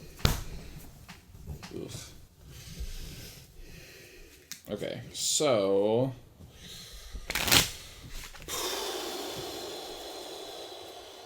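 Playing cards shuffled during a tabletop game of Trambahn, short riffling bursts at close range between several people talking and exclaiming around the table.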